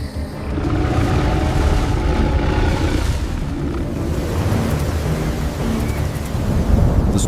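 Heavy rain pours during a Florida hurricane-season thunderstorm, a loud, continuous roar with deep rumbling thunder underneath that swells again near the end.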